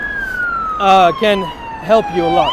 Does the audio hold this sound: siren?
yes